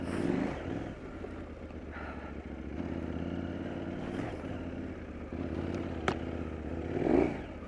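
A KTM 790 Adventure R motorcycle ridden off-road, its engine droning steadily with mechanical clatter and rising revs, louder surges near the end.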